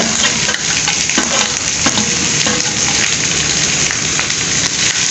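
Onions frying in a pan for pepper chicken varuval give off a loud, dense, steady sizzle with occasional clicks and stirring knocks, close up and continuous, with no one talking.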